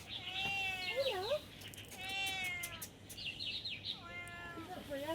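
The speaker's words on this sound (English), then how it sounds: "you can hear a whining cat" A whining cat lets out three long, drawn-out meows, each rising and bending in pitch with short gaps between them, close by against a quiet outdoor background.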